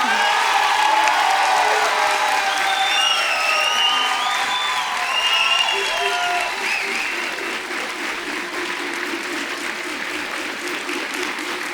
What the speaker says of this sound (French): un tonnerre d'applaudissements pour ces filles